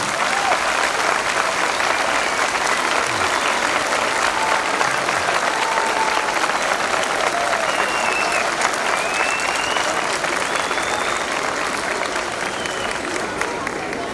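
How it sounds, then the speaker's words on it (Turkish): An audience gives a long, loud, sustained ovation for young performers at an evening Balkan dance event in Bornova, with dense, continuous clapping from a large crowd. "gençlere, bu renklere kocaman bir alkış istiyorum sizden."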